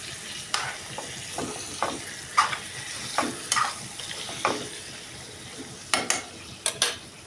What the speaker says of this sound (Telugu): చికెన్ చూడండి ఫ్రై అయిపోయింది బాగా